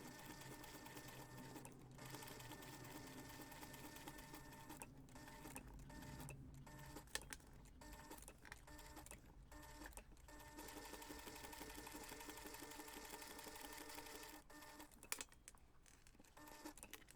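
A sewing machine top-stitches a webbing strap with leather ends, running in long steady bursts of rapid mechanical clatter, briefly pausing a few times between stitching runs, with no voices.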